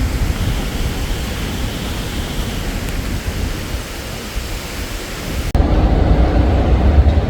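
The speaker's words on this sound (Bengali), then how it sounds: "মানে প্রচুর বাতাস বৃষ্টি গাছপালা ভেঙে যেতেছে" Strong wind and heavy rain outdoors in Korea during a stormy monsoon spell, a loud, steady roaring wash of noise that surges louder toward the end, no voices over it.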